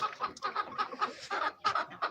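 Fifteen-week-old local chickens clucking, a flock of short overlapping clucks and squawks in a fairly quick irregular rhythm, close and moderately loud with no talking.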